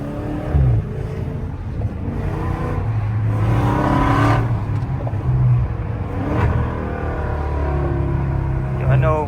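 A Dodge Scat Pack cuts through traffic with its traction control off, its deep engine rumble and revs droning loudly and continuously from inside the car, rising in short pulls, while someone talks over it.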